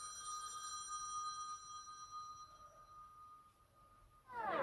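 A telephone rings in a music-video scene, a steady electronic tone with bright harmonic layers holding for about four seconds before fading, then cut off by a sudden burst of noise.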